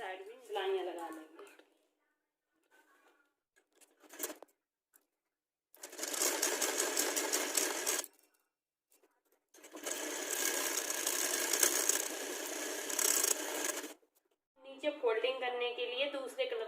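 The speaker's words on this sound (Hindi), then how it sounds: "इसी तरह से दूसरी साइड भी सिलाइयाँ लगा लेंगे।" A sewing machine runs in two long, loud bursts while stitching the side seam of a girls' top, with a short tap between them and someone speaking briefly before and after.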